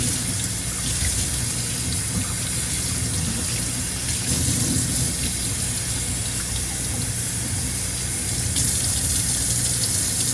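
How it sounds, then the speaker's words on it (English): Steady running water rinses a potted bamboo plant and its leaves outdoors on a summer day, a continuous close tap-like gush with no pauses and no voices. "I'm gonna be rinsing off here"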